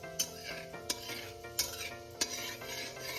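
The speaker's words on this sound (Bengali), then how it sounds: "কালো জিরেটা একটু ভেজে নেব।" Black cumin seeds frying in a pan and being stirred, a steady soft sizzle under four sharp spoon clinks against the pan at roughly even intervals, close and clear with no voices.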